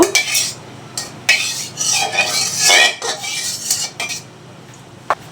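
A metal spatula scrapes and clinks around a hot kadai, spreading oil before fish is fried; sharp, close metallic strokes and rasping sweeps come in irregular bursts with short pauses between them.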